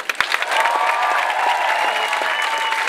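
Concert audience at a live rap show in Athens breaks into loud clapping mixed with cheers, starting with a few sharp claps and swelling into dense, steady applause.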